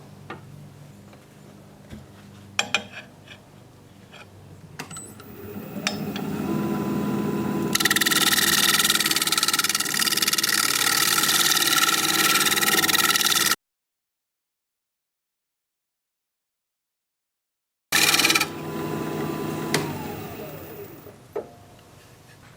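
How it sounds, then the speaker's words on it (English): A wood lathe turns a Russian olive live-edge bowl: faint ticking gives way to a loud, steady whirring scrape for several seconds, a sudden gap of silence, then the scraping resumes briefly. "I'm going to get in here and scrape that again."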